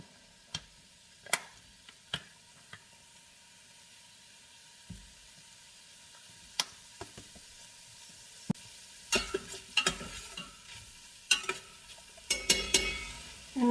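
Garlic sizzles in a hot pan, a quiet steady fry broken by sharp clicks and scraping stirs that grow busier toward the end, with no talk.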